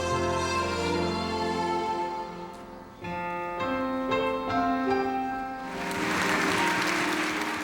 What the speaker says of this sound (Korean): 연주가 끝나자 숨죽이던 관중의 박수가 터져나왔다.